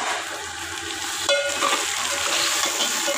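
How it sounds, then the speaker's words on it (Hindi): Three medium tomatoes fry in a pan for a chicken salan, giving a steady, loud broadband sizzle that runs the whole time with a brief sharper crackle partway through. "अब ये तीन अदद टमाटर थे दरमियाने साइज के, अब मैं इनको थोड़ी देर भूनूंगी"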